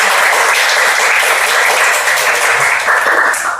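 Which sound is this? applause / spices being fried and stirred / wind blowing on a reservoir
applause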